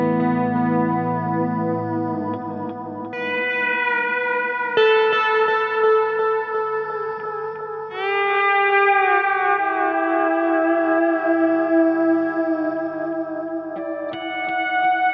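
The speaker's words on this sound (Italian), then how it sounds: "Adesso sentiamo un altro piccolo suono con un riverbero," An electric guitar is played through reverb and a wide delay effect, sustained chords and notes ringing and overlapping with long, shimmering echoes, loud and continuous with no talking.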